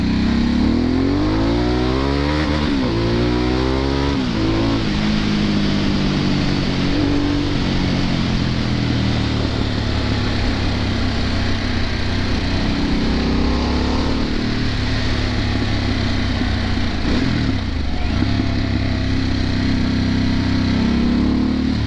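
A Harley-Davidson Sportster S motorcycle engine runs loud and close throughout, revving up and down with a deep, steady rumble and rising pitch sweeps as it accelerates, with no talk over it.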